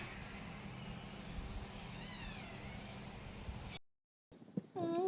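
Newborn pug puppies cry in a steady high squeal, a close continuous mewling over a constant machine-like hum from their warming box, then a brief silence before a few thin cries return.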